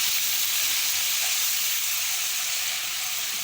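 Ginger garlic paste hits hot oil with cumin and spices, giving a steady, dense frying sizzle with a broad hiss that holds evenly from start to finish, close and alone with no voices.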